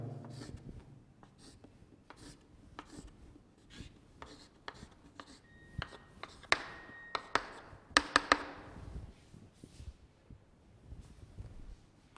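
A chemistry formula is written out by hand with a series of short tapping and scratching strokes, some quicker bursts in the middle, recorded close and fairly quiet.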